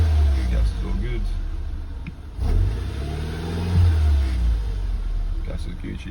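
BMW Z4 E85 roadster with an N46 engine revving, a low steady engine drone rising in two throttle blips amid close-up mechanical noise, with a voice speaking over it.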